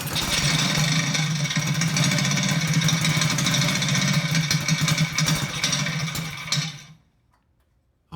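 A Harbor Freight Predator 224cc small engine runs after a pull start, a loud, busy, rattling idle close by that cuts off abruptly near the end, with no talking.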